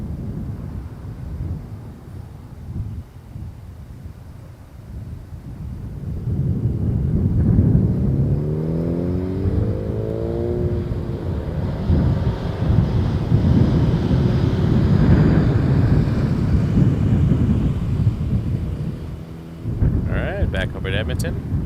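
Emirates airliner at Toronto Pearson Airport in winter: a low, broad jet engine roar that swells and holds for several seconds at a distance, with wind noise and a person talking over it.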